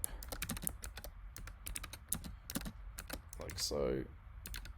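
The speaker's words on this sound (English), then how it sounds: "you just double click and type" Someone types on a computer keyboard in a burst of quick, close clicks, with a voice speaking briefly over the keystrokes near the end.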